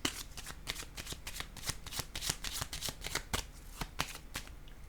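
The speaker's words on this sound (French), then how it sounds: "Donnez-moi une minute, je vais piger une autre carte." Tarot cards being shuffled by hand, a rapid series of crisp riffling slaps and flicks in an uneven rhythm, close and quiet, with no voices.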